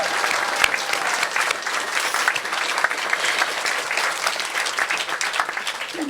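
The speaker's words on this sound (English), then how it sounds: "Please help me give them a round of applause for everything they've done." Sustained applause from an audience at a hospital cancer center ribbon-cutting celebration, a dense, even wash of many hands clapping at a steady level throughout with no talk.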